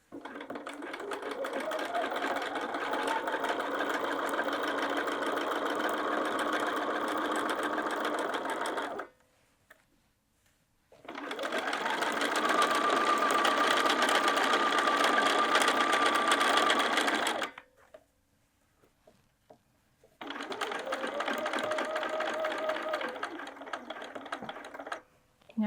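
A sewing machine stitches across a bag pocket in three long, steady runs of fast mechanical whirring, separated by short pauses. The machine is close and loud, and no one speaks.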